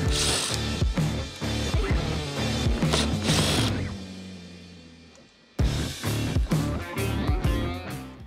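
Ratchet wrench backing out 12mm bolts beneath a 2019-2021 Lexus LX570, fast repeated clicking bursts up close and loud, a pause near the middle, then steady ratcheting again.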